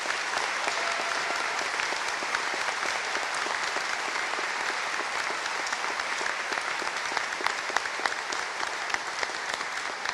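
A large graduation audience at a Bath Spa University School of Education ceremony gives steady, dense applause that carries on loud and unbroken for the whole stretch.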